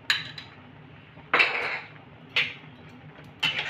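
A spoon scrapes and clinks against a pan while stirring a powdered-milk mixture for kalakand: four distinct metallic strokes spaced about a second apart, close and clear over a quiet background.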